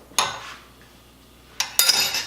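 Coleslaw dressed with grainy mustard and celery seed being mixed in a bowl, heard as two brief clinking, scraping strokes of a utensil against the bowl separated by a quiet gap.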